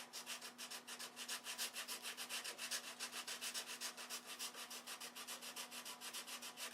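Steady back-and-forth hand sanding on a piece of cheap junk wood, a close, even scratching rhythm of about four strokes per second that continues without pause and with no talking.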